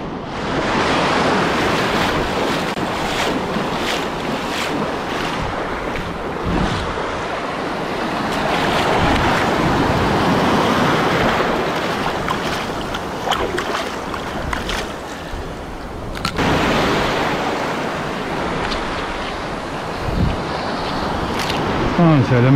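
Sea waves wash and break on a shore, a loud, continuous rushing surf with swelling surges and gusty wind buffeting the microphone, someone talking over it at times.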